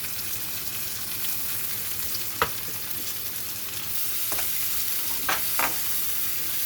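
Tomatoes sautéing in hot oil with softened golden onions in a pan for a mushroom gravy, a steady soft sizzle with a few sharp stirring clicks and scrapes, close and alone without talk.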